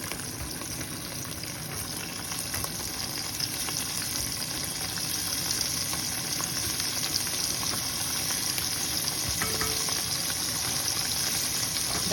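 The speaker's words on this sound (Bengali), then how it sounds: "চিংড়ি মাছটা ভাজা হয়ে গেছে, একেবারেই হালকা ভাজলাম, বেশি ভাজি নাই।" Shrimp lightly frying in a pan for a bottle gourd curry: a steady, close hiss and crackle of hot oil that continues for the whole stretch, with faint stirring.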